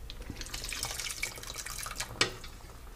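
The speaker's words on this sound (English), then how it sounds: "Keep adding water. Don't be afraid of adding water." Water splashes and trickles into a pot of daal as it is topped up, a soft, close pouring with a few sharper drips and one clear splash near the end, quiet and without speech.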